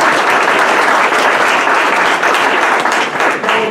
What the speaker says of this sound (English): I just want you to give them a round of applause for the hard work in getting that.